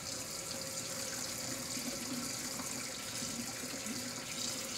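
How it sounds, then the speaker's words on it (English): Water runs steadily from a kitchen faucet into one side of a sink as it fills, a constant soft gushing rush with no pauses. "We're gonna fill the right side of the sink up, starting on cold, and moving our faucet until it's warmer."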